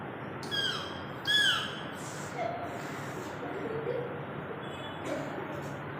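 A fourth-standard student at a school class assembly imitates a parrot with a couple of shrill, rising squawks early on, then fainter calls, over a low roomy background hum.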